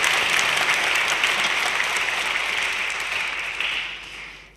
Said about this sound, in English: Yes, you might give an applause,